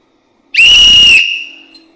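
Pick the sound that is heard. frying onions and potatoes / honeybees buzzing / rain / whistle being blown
whistle being blown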